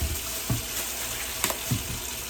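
Cilantro is rinsed under a kitchen tap, with water running faintly and steadily and a few soft clunks and splashes scattered through it.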